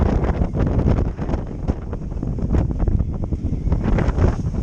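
Steady, gusty wind buffets the microphone aboard a sailboat heading into the wind to furl its jib, a continuous loud roar with surging rises and dips and no voices.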